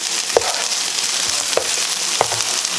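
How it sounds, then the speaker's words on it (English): An egg being mixed into a breakfast hash frying in a pan, giving a loud, steady sizzle with a few sharp stirring clicks spaced through it. "Mix the egg in there."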